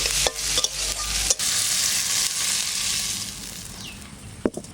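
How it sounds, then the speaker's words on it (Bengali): Tomatoes frying in a pan for khichuri are briefly stirred, a close steady sizzle with a few sharp spoon knocks and scrapes at the start and end. "এবার দেবো টমেটো। হালকা নেড়ে নিলাম, এবার তুলে নেব।"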